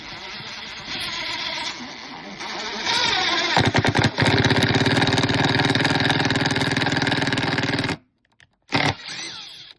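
A budget impact driver with a Makita-style mount drives a self-tapping metal screw into wood, a loud, dense buzzing hammer that runs steadily for several seconds, stops abruptly, then gives one brief final burst.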